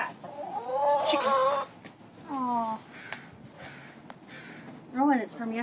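Chickens in a coop cluck and squawk in several close bursts with pauses between them, while a person's voice can be heard faintly beneath.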